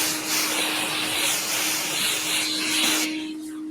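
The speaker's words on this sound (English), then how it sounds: "what I'm going to do before I make an even bigger mess here is vacuum up this sawdust" A vacuum cleaner sucks up balsa wood sawdust at a workbench, giving a steady close whooshing roar with a constant hum that cuts off shortly before the end.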